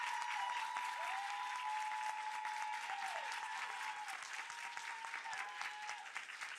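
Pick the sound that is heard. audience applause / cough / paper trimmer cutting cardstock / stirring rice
audience applause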